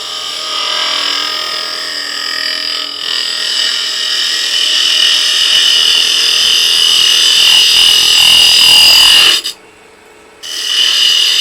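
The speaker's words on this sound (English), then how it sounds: "We're going to go ahead and go in there with a little box scraper and square up that bottom corner" A small box scraper works spinning wood on a lathe, squaring a corner of a turned Christmas tree box: a steady, close scraping hiss with a hum beneath, broken by one short pause near the end.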